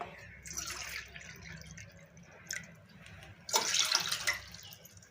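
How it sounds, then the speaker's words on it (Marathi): Water is poured into a pot to cook semolina with jaggery, coming in short splashing bursts with a louder, longer pour near the end, close up in a home kitchen with no talking. "आणि आता हे 2 वाट्या पाणी ठेवायचं आपल्याला."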